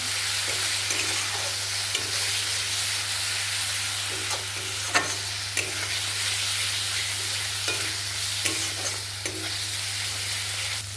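Ground turmeric, cumin, coriander and garam masala fry with slit green chillies in a pan for coriander chicken, giving off a steady, close, dense sizzle with soft stirring scrapes and a constant low hum underneath.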